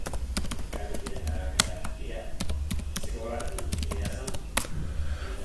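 Typing on a computer keyboard to enter a winget upgrade command in Windows: a steady run of crisp, close key taps with irregular rhythm, over a low background hum.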